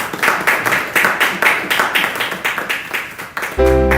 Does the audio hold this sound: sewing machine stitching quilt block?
no